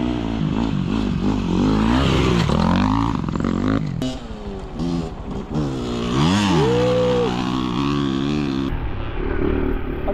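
A motorcycle engine revs and strains with rising and falling pitch while riding a steep road in Leyte, loud and close throughout with some clatter.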